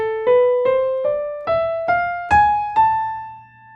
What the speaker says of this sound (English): The harmonic minor scale compared to the natural minor scale has this raised seventh